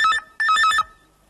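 A telephone rings in a Hindi radio drama scene, two close electronic trilling bursts, loud and clear, then silence.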